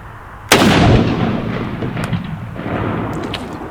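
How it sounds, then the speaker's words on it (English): A single loud rifle shot, 308 Win or 5.56 NATO green tip, fired outdoors at a target, a sharp close crack that booms and decays over about a second, followed by fainter clinks and clicks. "So let's load up and start shooting."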